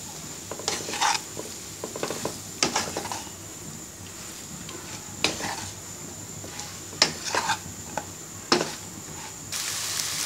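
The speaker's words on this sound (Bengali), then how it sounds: "এবার ভালো করে নেড়ে নিব।" Chili powder, salt and sliced green chilies being stirred into a Hilsa fish and eggplant mixture in a pan, with scattered scraping and clinking strokes of a spoon against metal over a faint sizzle.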